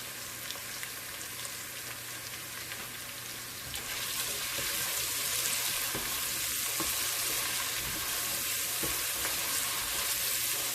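Sweet peppers and garlic cloves fry in a pot for a Caribbean pumpkin soup with smoked neck bones, giving a steady close sizzle that swells louder partway through, with no voices.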